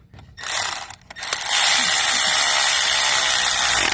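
A ratchet or impact tool tightens a fuel injector hold-down on a 2003 Ford 6.0L Powerstroke diesel, with brief clicks first, then a loud sustained whirring buzz close by.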